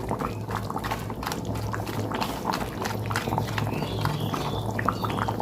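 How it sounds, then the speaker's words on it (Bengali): Chicken curry gravy bubbles steadily in a pot, a close, soft, continuous simmer of popping and gurgling with no talking. "দেখুন জল ঝোলটা ফুটে গেছে"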